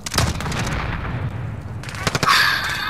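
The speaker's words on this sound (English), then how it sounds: "They're shooting out at that loadout." Gunfire in the video game Warzone: a rapid burst of shots opens, then after a lull a denser volley of loud, sharp reports rings out, with no talk.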